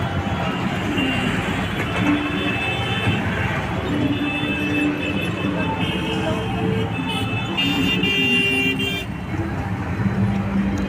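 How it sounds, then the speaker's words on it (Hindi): Dense road traffic fills the scene: engines rumbling, scattered horn toots, and a crowd murmuring throughout, continuous and fairly close. "आप सुन रहे हो कितनी गाड़ियों का शोर शराबा था।"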